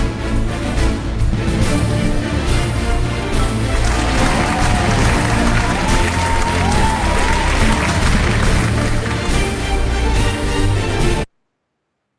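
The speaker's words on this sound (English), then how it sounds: "can we give a big warm round of applause to our Team Elite Phoenix, our Mr. Chevy Lim?" A meeting audience gives sustained, dense applause for a speaker, a loud continuous wash of clapping with light crowd noise that cuts off abruptly near the end.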